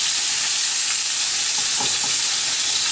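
Pork tenderloin sears in a hot pan right after being flipped, a steady close sizzle and hiss of frying meat with a few soft pops partway through.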